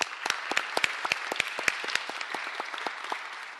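Sparse, crisp handclaps from a small audience at a public board meeting, individual claps clearly separated and steady for a few seconds, fairly close with no talking.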